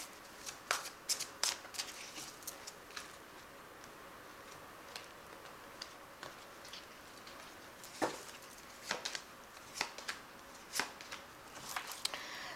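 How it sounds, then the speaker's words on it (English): Soft, irregular shuffling of a tarot deck with light taps and riffles, quiet and close, scattered over a faint steady background hiss. "So I've shuffled this deck."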